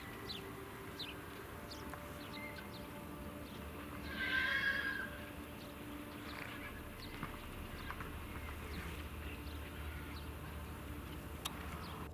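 A horse in a slaughter feedlot pen whinnies once, fairly distant, over a constant low outdoor rumble, with faint clops and soft sounds scattered around it.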